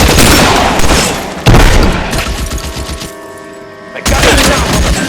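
Gunfire in an L.A. Noire shootout booms loud and close in dense volleys, two heavy bursts broken by a quieter stretch of scattered shots before the firing resumes.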